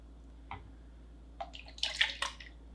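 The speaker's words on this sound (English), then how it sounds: "you can pour all that into the blender" Beaten eggs pour into a blender jar in a kitchen: a small wet plop, a short pause, then a longer gloopy splashing pour that swells and trails off, close and fairly quiet.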